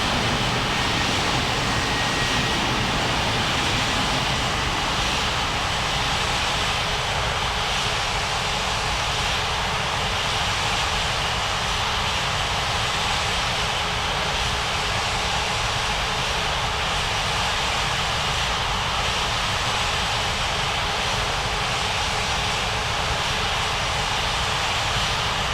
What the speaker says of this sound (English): Air India 1299, cleared for takeoff runway 35 right